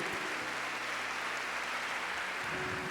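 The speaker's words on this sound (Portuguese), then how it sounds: "Vamos dar uma salva de palmas forte ao Senhor por isso?" A church congregation claps together in praise, a quiet, steady wash of applause with a low hum beneath, lasting the whole moment without any voices.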